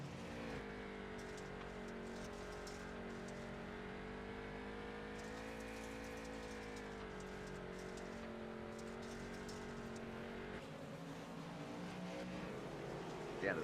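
Race cars in the iRacing sim roar steadily around a track during a league night race, with loud, sustained engine drone and shifting pitch as they speed past, the note dropping briefly near the end.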